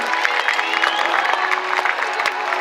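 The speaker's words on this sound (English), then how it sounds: "Let's give them a big round of applause." A crowd claps and cheers steadily throughout at an orca show at SeaWorld San Diego, a dense wash of applause with scattered louder claps.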